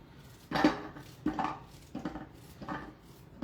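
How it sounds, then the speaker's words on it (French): A knife coarsely chops an unpeeled courgette on a board, four distinct thuds spaced roughly evenly, close and fairly quiet. "je n'enlève jamais la peau de la courgette. Donc, on va la couper grossièrement."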